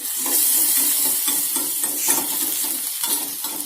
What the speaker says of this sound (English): as soon as you put it, it's already heated up, so I'm just tossing in this, the mixture which we have made.